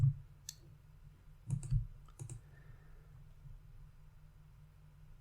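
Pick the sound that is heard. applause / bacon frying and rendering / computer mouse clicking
computer mouse clicking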